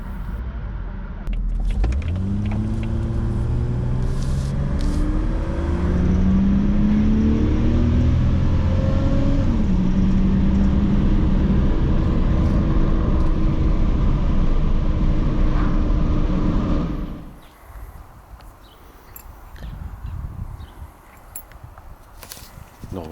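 A Jaguar XJ40 saloon drives along with a loud, steady mechanical drone and rising whine from its noisy differential and gearbox, the tone climbing as it accelerates, then the noise drops away abruptly into quieter road rumble near the end.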